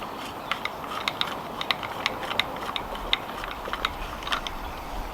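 A pond pipe union end is unscrewed, producing faint rapid ratcheting clicks and ticks in an uneven rhythm over quiet background noise, close by with no talking.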